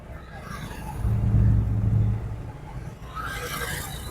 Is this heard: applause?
no